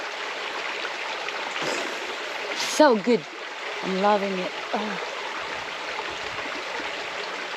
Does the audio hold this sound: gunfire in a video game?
no